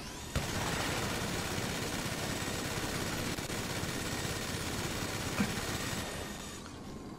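Rapid, dense gunfire crackles continuously in a loud burst of automatic shooting in GTA V Online, with engine-like rumble underneath, a few sharper pops standing out.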